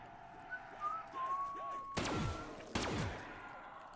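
A person whistles a short, wavering tune, soft and close, before two loud, sharp thuds break in.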